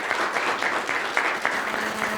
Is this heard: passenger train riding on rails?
no